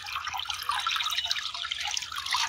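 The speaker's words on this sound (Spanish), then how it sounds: "Esta es una fuente de agua natural." Water trickles and drips from a natural spring by the Tecolostote river, a busy, bright, continuous splashing patter that stays close and steady throughout with no voices.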